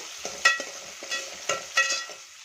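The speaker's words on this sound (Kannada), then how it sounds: "ಅದನ್ನು ಕೂಡ ಚೆನ್ನಾಗಿ ಫ್ರೈ ಮಾಡ್ಕೊಳ್ಳೋಣ." Finely chopped onion sizzles in a pan for ridge gourd dal, a soft steady fry broken by a few sharp scrapes and taps of a spoon stirring it, close and fairly quiet.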